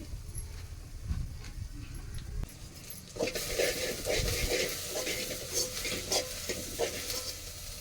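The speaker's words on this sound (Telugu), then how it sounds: "ఉల్లిపాయలు, టమాటా, పచ్చిమిర్చి వేగిపోయినాయి శుభ్రంగానే" Onion, tomato and green chili fry together in a pan, a low bubbling at first that turns to a brighter, louder sizzle with repeated stirring scrapes partway through.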